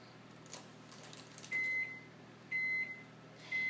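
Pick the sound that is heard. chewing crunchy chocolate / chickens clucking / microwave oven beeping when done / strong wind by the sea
microwave oven beeping when done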